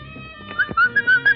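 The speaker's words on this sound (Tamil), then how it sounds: "விசில் அடிச்சாரு" A person whistling a short series of clear, high pitched notes, several brief bursts in quick succession, close and fairly loud with little else around.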